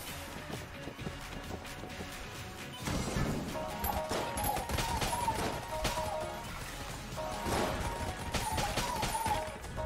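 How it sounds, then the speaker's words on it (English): Rapid, continuous gunfire from the Enter the Gungeon video game, a dense stream of shots with crashing impacts that grows louder after a few seconds and keeps going without pause under busy game music. "I can just stand still and shoot without having to reload."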